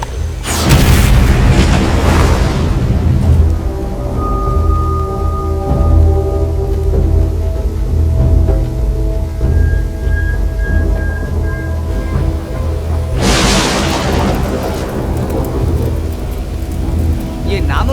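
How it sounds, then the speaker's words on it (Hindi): Deep, thunderous booms of a C4 bomb blast burst out loudly at the start and again near the end, with a heavy rumbling roar filling the space between. "लेकिन ब्लास्ट का धमाका बहुत तेज होगा"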